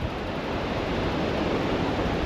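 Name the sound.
rough ocean surf on Vietnam beach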